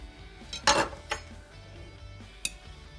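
A knife swipes through a chocolate cake with mascarpone cream, then lifts a piece, with a few light metallic clinks and taps against the plate.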